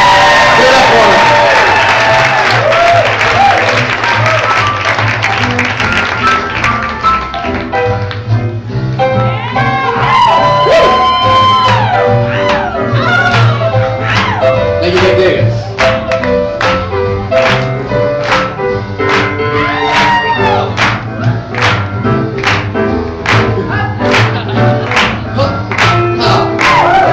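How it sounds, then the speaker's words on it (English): An audience at a student Lindy Hop showcase cheers, whoops and applauds dance instructors, a long loud burst of clapping with yells and shouts that stays dense throughout. "let's please have a strong round of applause for Denver's finest instructors"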